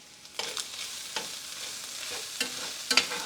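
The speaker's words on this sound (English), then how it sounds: "And stir it up." Seasonings, Italian seasoning and red pepper flakes, being stirred in a pan while making a sauce, with soft irregular scraping strokes over a light sizzle, close and without talk.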